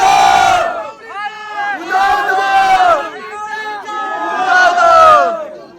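A large crowd chants in unison at the Ekvira Aai palkhi procession, loud, close and continuous, with rhythmic shouted phrases rising and falling over the general din.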